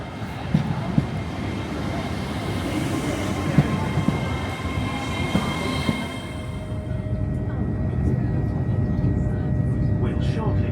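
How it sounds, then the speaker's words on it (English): Steady low rumble of a passenger train on the East Coast Main Line rolling into Chester Street station, with rail rattle and a faint whine, continuous throughout; no clear braking squeal. "our train should be arriving any time now"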